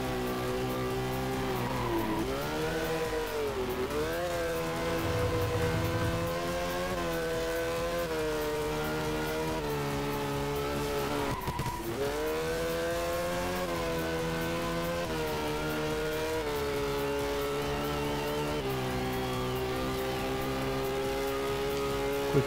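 Motorcycle engine in the MotoGP URT 3 racing game on an Extreme 1200 class bike, a steady high-revving drone that swoops through gear changes and throttle dips, loud and continuous with faint background music.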